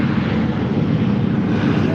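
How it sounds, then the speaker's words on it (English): A plane comes in to land at sunrise, a steady broad engine roar with wind rumble running throughout at close, loud level. "Oop, and the plane's landing."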